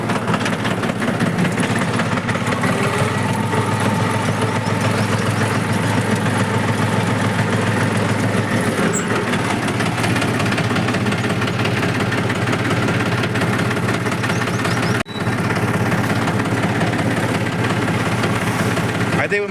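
A Mahindra 275 tractor engine runs at a steady loud diesel chug while the tractor reverses, continuous throughout with a brief dip near the end and voices talking over it.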